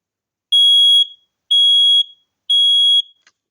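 A Kidde i9040 EU smoke alarm sounds during a test, three loud, piercing, identical beeps of about half a second each, evenly spaced, with silence between them.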